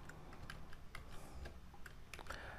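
Keys tapped on a computer keyboard, a quiet run of irregular clicks and taps at moderate pace, close by with no one talking.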